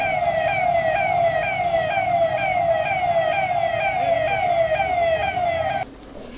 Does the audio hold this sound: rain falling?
no